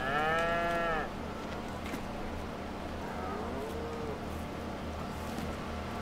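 Cattle mooing in the Farming Simulator 22 game at a new cow shed: one loud, drawn-out moo opens, then a softer moo follows later over a steady low farm hum, with no talk.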